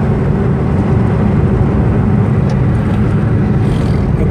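A Suzuki Mehran Euro 2 car drives at high speed, above 130 km/h on a local road, heard from inside as a steady, loud roar of engine and wind rush with no talk.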